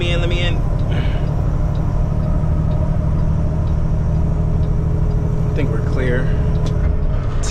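Semi truck cab interior while merging onto a highway: a steady loud diesel engine drone and road rumble runs throughout, with a few brief higher chirps and rattles on top.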